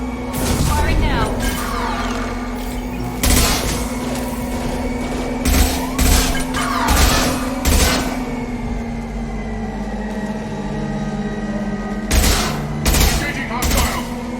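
Gunfire in the Mass Effect 2 video game: repeated loud bursts and rapid volleys of shots in clusters, over a steady low hum, with squad voices calling out during combat.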